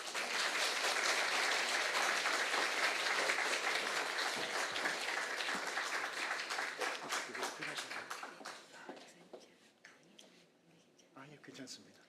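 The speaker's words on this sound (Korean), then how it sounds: "우리 귀한 사모님 함께 이 자리에 모실 때에 박수로 함께 환영하고" Audience applause rises to welcome a pastor's wife onto the stage at a church lecture, a dense steady clatter of many hands that thins and fades over the final seconds.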